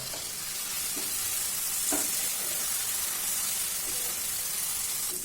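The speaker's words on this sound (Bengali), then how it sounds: "পেঁয়াজটা ভাজা হয়ে গেছে" Onions frying with a pinch of salt hiss in a fairly quiet, even sizzle, broken by a few light stirring clinks, with no talking.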